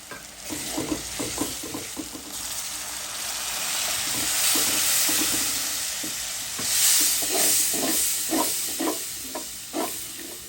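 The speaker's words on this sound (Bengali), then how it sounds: "টমেটোটা মশলার সাথে কষিয়ে নিব" Spices and tomato stir-fried in a pan for a fish roe bhuna, giving a steady sizzle and hiss broken by soft scraping strokes of a spatula, close and fairly quiet, with no talking.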